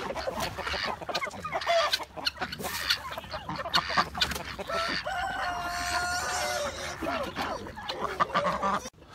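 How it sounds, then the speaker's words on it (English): On a homestead, chickens cluck and squawk in a noisy, busy flock, with harsh bursts of roosters fighting and a voice speaking briefly in the background. "you guys could see that rooster fight on camera"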